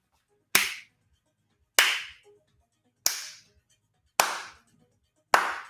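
Five sharp, close handclaps land alone at slow, even intervals about a second apart, each ringing out briefly before silence.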